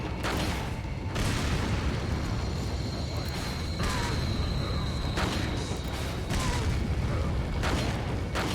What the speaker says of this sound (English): usually you can't fire infinite rocket launchers this quickly